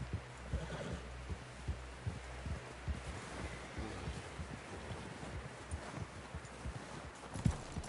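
Horse hooves clip-clopping in a steady, quiet rhythm, with faint rustling alongside, as a horse moves through the open-world western game Red Dead Redemption 2.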